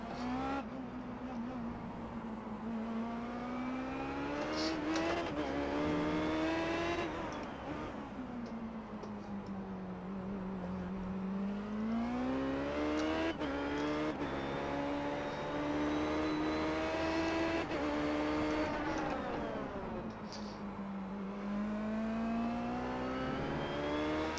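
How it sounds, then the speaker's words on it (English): Indy race cars lap in the iRacing simulator, with a loud buzzing engine whine that climbs and falls in pitch through repeated gear changes and corners, another car droning close behind, and no talk heard. "Having a car buzzing around your gearbox is very distracting"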